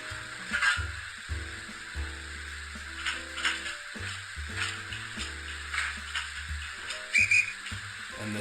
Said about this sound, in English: And there's some shutting of some doors and a guard's whistle.